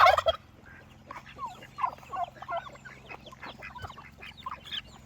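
A turkey on a small off-grid ranch gobbling in repeated rattling bursts, loud at first and then a series of fainter calls at moderate distance.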